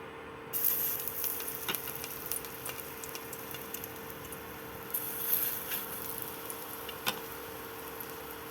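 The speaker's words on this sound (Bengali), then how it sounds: "এবার বড়াগুলো ভেজে নেব" Green banana fritters fry in hot mustard oil with a steady, fairly quiet hiss and crackle, a few sharper pops rising briefly through the sizzle, with no talking.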